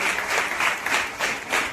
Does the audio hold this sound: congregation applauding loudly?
yes